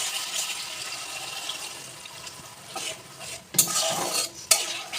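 A little water poured into sautéed spice paste for chili paneer, giving a hissing, bubbling sizzle and stirring scrapes, with two sharp louder bursts near the end.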